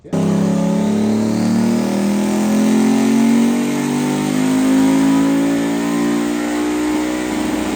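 A Mazda RX-7 no-prep drag car engine revs hard and holds high, a loud sustained rotary drone that climbs steadily in pitch over several seconds, close and alone without talk.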